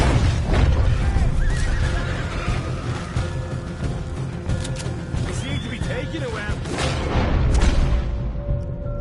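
Horses neigh and whinny in the Painkiller video game, with an in-game voice talking over a dense backdrop of rumbling booms and mechanical clatter.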